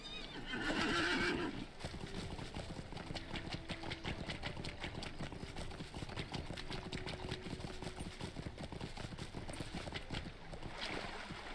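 A horse in the LOTRO video game gives a sharp whinny, followed by a steady, rapid clip-clop of hooves that continues alone over a low rumble.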